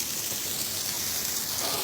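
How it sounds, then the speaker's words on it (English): Steady spray of water patters down continuously, a dense hiss like a hose or sprinkler soaking plants nearby. "I water these plants a lot."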